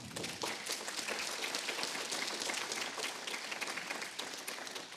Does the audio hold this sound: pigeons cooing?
no